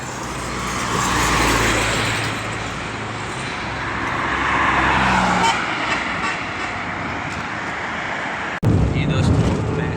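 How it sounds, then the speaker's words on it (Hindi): Cars and trucks pass in steady roadside traffic on Lahore Road at the Chakwal Mor junction, a continuous loud rush and roar of engines and tyres with a horn toot, and someone speaks over it. "इसे चेक करें, गाड़ियाँ गुजर रही हैं लेकिन रश भी इतना है"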